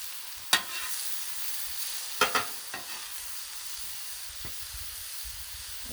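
Vegetables sizzle on a griddle in ghee with a steady low hiss, broken by a few sharp scraping clacks of a utensil, close and otherwise quiet.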